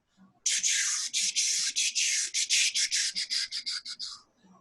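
A voice imitates a New York G train pulling into a station with breathy, hissing bursts in a steady rhythm that quicken and shorten, like cars clacking over rail joints while slowing.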